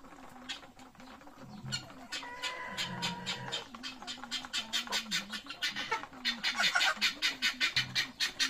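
Upgraded native chickens cluck and chatter in a provincial coop, with repeated rhythmic clucks that rise toward the end, alongside higher calls, at close range and moderately loud.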